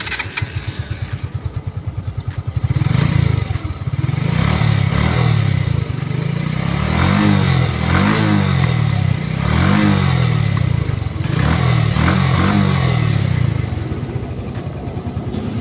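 A Suzuki Smash motorcycle engine starts and runs close by, settling into a steady idle with repeated throttle blips that rise and fall in a loud, rhythmic putter.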